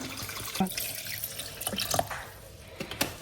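Water poured into a peanut and powdered-milk kenkey smoothie, with a few close splashes and drips into the liquid over a short stretch, no talking.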